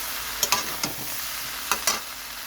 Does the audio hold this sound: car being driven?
no